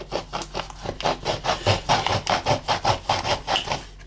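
A knife sawing through a homemade fish trap, likely a cut plastic bottle, with a close, rhythmic rasping scrape in about a dozen regular back-and-forth strokes and no talk.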